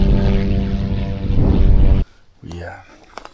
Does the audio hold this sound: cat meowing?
no